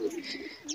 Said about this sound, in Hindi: और माशाल्लाह यहाँ पर कबूतर भी हैं।